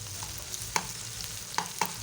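Potatoes and fenugreek leaves cook in a pan with a soft, steady sizzle, broken by a few sharp scrapes and taps of a utensil stirring, fairly quiet and close, with no talking.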